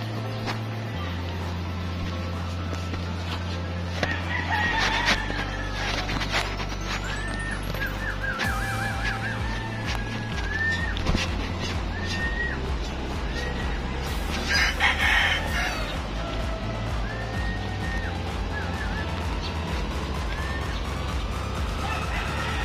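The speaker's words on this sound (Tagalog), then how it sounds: "Kanina ba manok lahat yan?" Roosters crow and chickens cluck amid a busy outdoor scene with steady background noise and low rumble, the calls repeating at intervals over about twenty seconds, with faint voices now and then.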